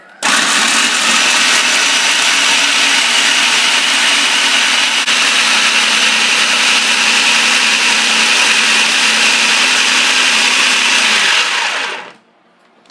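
A blender whirs loud and steady for about twelve seconds, close by, blending a mixture softened with a little milk for alcapurria dough, then spins down and stops abruptly.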